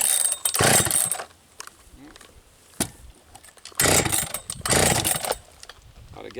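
Husqvarna 272XP chainsaw being pull-started for firewood cutting, loud ragged bursts of cranking and sputtering engine noise separated by quieter pauses and a sharp clack, close by, no talking.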